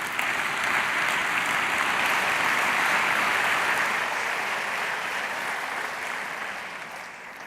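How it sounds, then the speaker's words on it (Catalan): Loud, dense audience applause at a literary awards ceremony in Girona, a full sustained crowd clapping that gradually tapers off toward the end. "el rebem amb un fort aplaudiment també"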